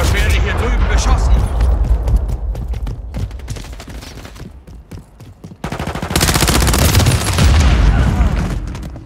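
Bursts of automatic gunfire and booms in a shooter video game, loud and dense with rapid repeated shots, heavy near the start and again toward the end, while a voice speaks over the action.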